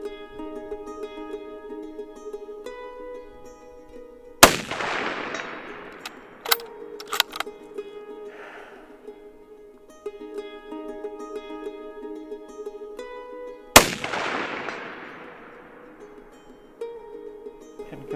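Two sharp rifle shots ring out several seconds apart, fired from a kneeling, slung-up position at 250 yards outdoors, each crack followed by a long decaying echo over a steady background hum.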